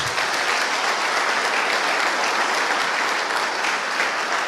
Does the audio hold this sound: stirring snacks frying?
no